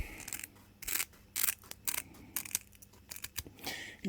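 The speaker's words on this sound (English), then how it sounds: "So I'll go and find my scissors and we'll cut it open." Scissors snip through an old fuel pump sock filter from a Suzuki KingQuad, a string of short, crisp cuts and clicks up close in a quiet room.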